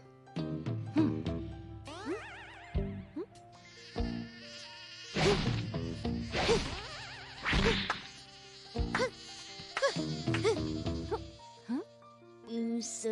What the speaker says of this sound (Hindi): सुनिए हैरी, यहाँ बहुत मच्छर है, चलिए ना उन्हें मिलकर मारें।